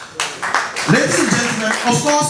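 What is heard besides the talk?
applause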